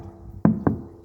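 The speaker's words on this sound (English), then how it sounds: "knock test" Two quick hollow knocks on an off-grid water tank to gauge its water level, sharp and close, about a quarter second apart, in a quiet setting with no speech.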